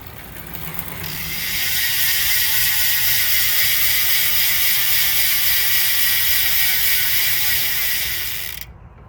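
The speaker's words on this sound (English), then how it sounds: "this wouldn't be a wheel set review if we didn't do a free hub check, right?" Freehub ratchet of a Trek Bontrager Aeolus Pro 37V carbon gravel wheel buzzing in a rapid, steady whir of fine clicks as the wheel coasts, loud and close, fading out near the end.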